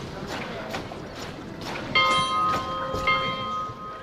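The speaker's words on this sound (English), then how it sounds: "We're gonna walk towards this bell sound." A bell rings out in a video game, several ringing strikes with a lingering tone over a busy ambient background, moderately loud and without talking.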